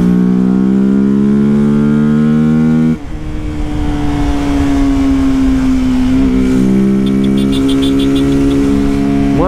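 A BMW 310GS motorcycle engine descending a mountain road in 12, running loud and close with a steady drone, a sharp gear change near three seconds, then a long even pull with a slowly falling pitch.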